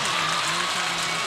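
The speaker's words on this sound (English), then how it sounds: "And Slicer fans are clapping it up." LaPorte Slicers fans clap through a boys varsity basketball game, a dense, steady wash of crowd applause filling the gym for just over a second.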